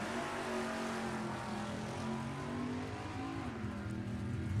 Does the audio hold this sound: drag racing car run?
yes